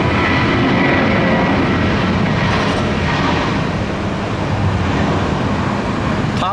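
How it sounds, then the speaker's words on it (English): A loud, continuous jet-engine roar fills the air as airplanes take off at Tampa airport on a foggy rush-hour day, a broad steady rumble heard from nearby with no clear voices. "these aircraft are taking a long time to take off"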